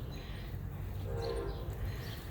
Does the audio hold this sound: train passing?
yes